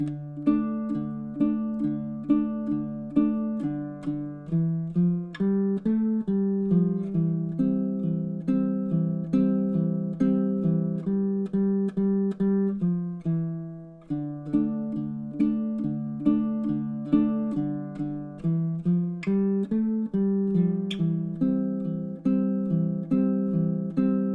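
A baritone ukulele plays a fingerstyle two-chord theme in steady time, with plucked notes and repeating patterns ringing clearly and alone for the whole stretch, no voice over it.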